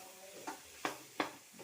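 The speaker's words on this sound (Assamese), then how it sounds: "এতিয়া মই এয়া এই দিছেনে আলু আলুটো ভাজি লৈছোঁ অলপ শুকানকৈ," Potato pieces dry-frying in a pan, giving a few sharp scraping stirs against a faint background sizzle, close and fairly quiet.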